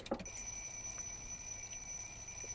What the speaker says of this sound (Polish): Budzik zaczyna szaleć.